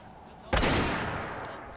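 A single loud, booming shot from a pipe gun rifle firing 50 caliber heavy explosive rounds in Fallout 4, bursting abruptly and then fading into a long decaying roar with no voices over it.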